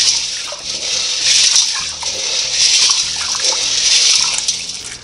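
Dry beans are rinsed in water for frijoles de la olla, a continuous splashing and sloshing with swirling surges, close and fairly loud, with no talking.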